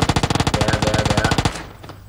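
A Vector submachine gun fires in PUBG Mobile, a rapid loud burst of about twenty evenly spaced shots that stops abruptly, then a brief faint clatter.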